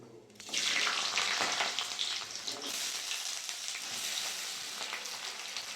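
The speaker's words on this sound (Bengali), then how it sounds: "আলুটা ভালো করে ভেজে নেব।" Cut potatoes and radish with black cumin seeds fry in hot oil in a wok, a loud, steady crackling sizzle that bursts in after a short quiet moment and carries on.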